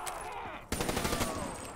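Rapid gunfire from a zombies shooter game played on a Nintendo, a burst of repeated shots erupting after a brief lull and continuing densely and loudly to the end, with no one talking over it.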